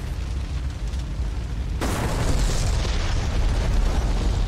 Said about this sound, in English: Yep, there's the explosion.